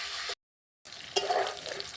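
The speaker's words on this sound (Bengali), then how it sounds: "ভালো করে নাড়াচাড়া করে ভেজে নেব।" Green plantain fries in a pan with salt and turmeric, a close sizzle interrupted by a brief silent gap, then resuming with stirring scrapes and clatter.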